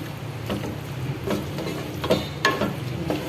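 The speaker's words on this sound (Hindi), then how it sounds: "अब ये ऊपर से हम हरा धनिया डाल रहे हैं और अच्छे से मिक्स करेंगे" Ridge gourd sabzi with fresh coriander is stirred in a pan, spaced spoon scrapes and taps over a soft cooking sizzle, close and without talk.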